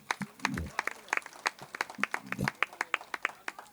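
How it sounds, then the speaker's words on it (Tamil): Scattered, fairly sparse hand clapping from an audience at a Tamil comedy and music troupe stage show, with individual claps standing out rather than a dense roar, over a low murmur. "நல்ல ஒரு கைதட்டு கொடுங்க"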